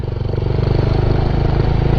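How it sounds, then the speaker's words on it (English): Engine-bay cooling fan on a KTM 390 Duke motorcycle, heard as a steady, loud whirring drone with a rhythmic pulsing hum, running continuously. "The fan is very noisy. You can probably hear that right now,"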